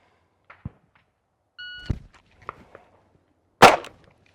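A single pistol shot drawn from the holster at an outdoor range, preceded by a short shot-timer beep and holster clicks, the one sharp loud report coming near the end.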